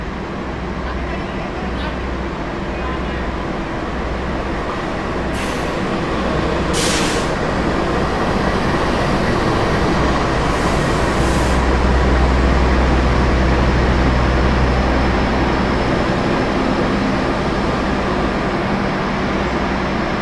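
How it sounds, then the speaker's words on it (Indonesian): A passenger train rumbles heavily and continuously nearby, with sharp hissing bursts of air brakes as it rolls into Kroya station and slows. "perjalanan kereta api Malabar yang saya naiki telah tiba di stasiun Kroya"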